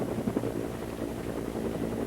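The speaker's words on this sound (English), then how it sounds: "And now that's Governor Campbell aboard the helicopter." Continuous rotor and engine drone of a helicopter in flight over a 1989 Hurricane Hugo disaster area, steady and fairly loud with no voices over it.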